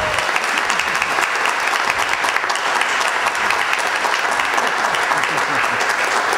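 Live theater audience at a Halloween old-time radio show applauding steadily, a dense, continuous clatter of clapping that stays loud and even throughout with no talking over it.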